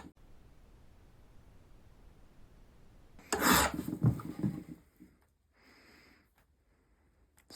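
A file rasps across the blade of a modern Stanley 151 spokeshave in a short burst of a few gritty strokes, close and fairly loud, then fades to quiet room tone.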